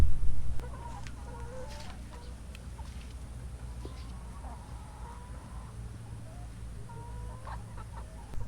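H&N Brown Nick laying hens cluck softly and intermittently in a farm coop during afternoon egg collection, over a steady low hum, with a louder burst of noise at the start and end.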